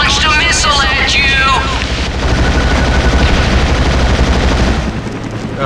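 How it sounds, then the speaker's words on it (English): Missile launch and blast in the PS2 game X-Men Origins: Wolverine, a loud sustained roar of explosion and gunfire-like rumble that fills the whole stretch, easing off near the end. "Someone just launched a missile at you!"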